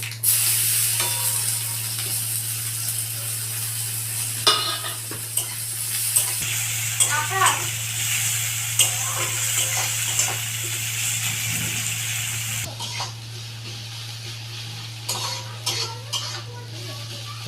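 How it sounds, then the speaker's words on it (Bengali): Black cumin seeds and chopped onions fry in oil left from frying potatoes, a steady sizzle running throughout, with repeated scraping stirs and clinks of a utensil against the pan; no one speaks. "আলু ভাজা তেলগুলো তেলগুলোর মধ্যেই আমি কালো জিরা ফোড়ন দিয়ে দিচ্ছি পেঁয়াজ কুচিগুলো দিয়ে দিচ্ছি"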